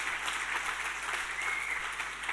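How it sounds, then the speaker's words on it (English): An audience gives a sustained round of applause, a dense even wash of clapping heard from a bit of distance, without any voices. "Let's have a round of applause for Pep and crew."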